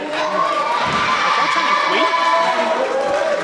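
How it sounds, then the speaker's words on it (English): Wrestling crowd at a Grapple in Newchapel match chanting in unison, a dense, loud sustained roar of many voices with rhythmic pitched chant lines running throughout. "Crowd chanting Queen."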